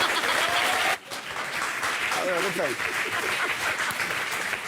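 Studio audience and panel of a French TV talk show applauding, a dense continuous burst of clapping with cheers and voices mixed in, fairly loud and close after a brief break near the start.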